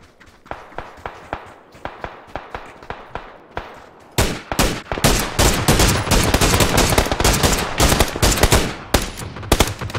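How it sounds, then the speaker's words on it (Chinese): Rapid gunfire from the battle royale game PUBG during a China versus Japan streamer match, starting as sparse single shots and swelling into dense, loud automatic bursts with running footsteps, no talk over it. "四号标那边有枪声， 他们在打城里吧"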